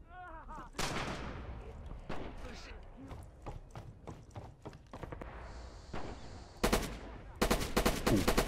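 Barrage gunfire in the Rising Storm Red Orchestra 2 war game: repeated sharp gunshots and booming impacts, ending in a rapid burst of close machine-gun fire, with voices talking between the shots.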